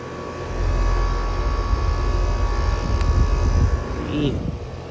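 An LG air conditioner runs outdoors on a hot day, giving a steady fan and compressor drone with a constant hum. A faint short chirp comes near the end.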